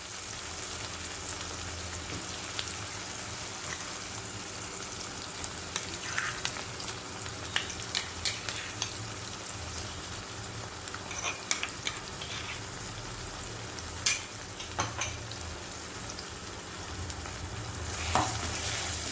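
Wilted tomato and a ground gravy sauté in a pan for Kerala-style tomato rice. A steady, close frying hiss runs throughout, dotted with scattered spatula scrapes and taps, and nobody speaks.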